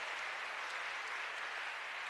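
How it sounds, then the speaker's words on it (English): A church congregation at a conference claps in a dense, even wash of applause that holds steady for a couple of seconds at moderate volume. "If you want to clap, please do it well."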